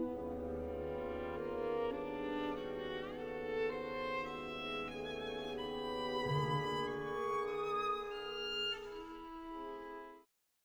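A solo violin plays Berg's twelve-tone row, a slow, clear melodic line of sustained tones that sounds close and carries alone before ending in a short decay into silence.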